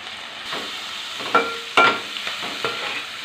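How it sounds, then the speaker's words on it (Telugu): Dried fish fries in oil with onions, green chili and turmeric in a pan, giving a steady close sizzle broken by several louder scraping stirs. "ఈ ఉల్లిపాయలతో పాటు కొద్దిగా ఫ్రై అయ్యిద్దండి చేప. ఇట్లా వేపుకోవాలి."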